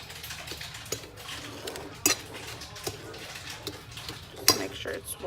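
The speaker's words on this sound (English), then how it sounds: "We're going to take a fork and we're just going to mix our breadcrumbs together" A fork mixes breadcrumbs together in a dish for breaded tilapia, giving soft scraping and stirring with a few sharp clinks of metal against the dish, close up, with no talking.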